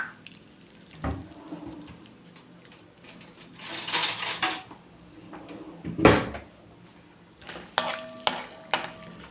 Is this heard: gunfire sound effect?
no